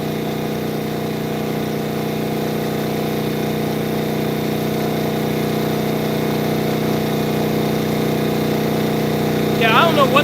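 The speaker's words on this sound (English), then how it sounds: "Generator's running good." A generator burning fuel made from plastic runs with a steady, loud engine drone throughout, with a brief higher rattle near the end; a voice speaks over it.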